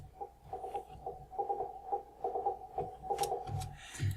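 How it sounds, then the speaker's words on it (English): Quiet electronic popping clicks repeat in an uneven rhythm over a low hum, shifting toward sharper, brighter click sounds near the end. "here's where I fade the popper into that click sound"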